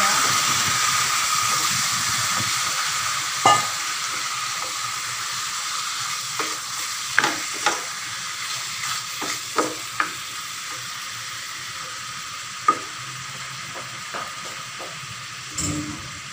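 Pork sizzles steadily in a hot pan for pork kinamatisan, a continuous frying hiss broken by scattered sharp clicks and scrapes of stirring, with one louder clatter near the end.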